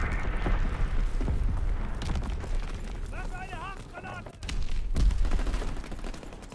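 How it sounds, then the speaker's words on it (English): Mortar rounds exploding in Call of Duty WW2 during a Saint Patrick's Day event, heard as a dense run of loud booms and gunfire-like blasts with a short whistling sweep partway through, then a renewed heavy burst. "Sending mortar rounds."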